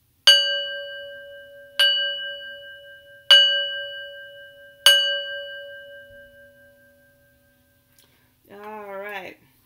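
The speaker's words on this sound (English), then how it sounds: "I'm going to ring my singing bowl now to clear the energy" A singing bowl struck four times at a steady pace, each clear metallic ring sustaining and slowly fading. After the final strike the tone decays to near silence before a voice starts speaking.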